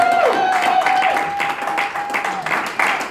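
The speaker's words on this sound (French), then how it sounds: "Applaudissons, applaudissons Saint-Esprit." Church congregation applauding during a worship service, steady clapping beneath a sustained held tone, with voices mixed in, lasting a few seconds.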